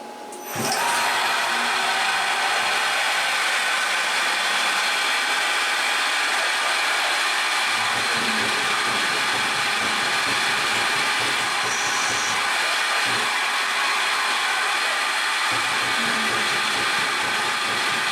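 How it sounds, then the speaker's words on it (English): A PM727MXL milling machine chamfers mounting holes with a chamfer mill, giving a loud, steady, close motor and spindle whine that runs almost the whole time, with faint cutting scrapes and thumps underneath. "I'm doing about 4 or 5 operations to just ease down and chamfer each one of the holes"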